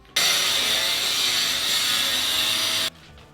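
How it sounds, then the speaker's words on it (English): An angle grinder cuts bathroom tile along the grout lines, a loud steady high-pitched whine that starts abruptly, holds for nearly three seconds, then stops, with no talk. "it's a great idea to cut along the grout marks because it's less work for the grinder to do"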